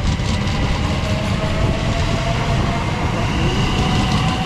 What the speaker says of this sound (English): Right, to find out now is TfL rail service to London Paddington.